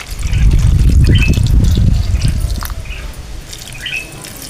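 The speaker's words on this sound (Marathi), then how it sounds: "मी आता याच्यामध्ये साधं पाणी टाकतोय" Plain water poured into a simmering vegetable curry of peas, potato, cauliflower and drumsticks: a loud, close splashing pour for about two seconds, then tapering into a fainter trickle.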